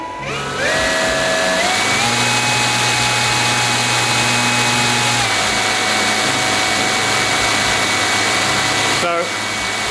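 A drone motor spins up during a current sensor test, a loud steady whine that steps up in pitch, holds, then steps down before cutting off near the end.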